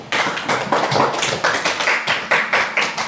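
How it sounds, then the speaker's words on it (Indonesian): Elementary school children in a coding class clap together, a loud, dense patter of applause running steadily throughout with rhythmic surges, close and with no talking over it. "tepuk tangan untuk kalian semua."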